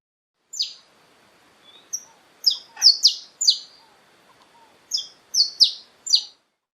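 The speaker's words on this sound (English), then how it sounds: "Saffron finch." Saffron finch singing: clear, sharp, high chirped notes in loose bursts, a few at a time, separated by short pauses, close and distinct over near silence.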